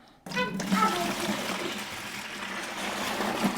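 A gallon of water poured into a bucket for caring for cut lei flowers, a steady close trickling gush that starts abruptly and runs on, with a voice faintly heard early on.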